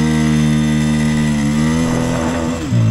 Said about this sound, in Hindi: इसको अगर लॉन्च करते हैं देखते हैं पहला गियर कितना मारता है।